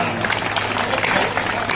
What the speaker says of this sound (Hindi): एक बार तालियां आपकी हो जाए